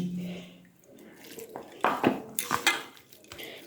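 Flour and water are mixed into cauliflower pakora batter in a bowl, heard as scattered wet clinks and scrapes of a utensil that grow busier toward the end, with a brief low hum at the start.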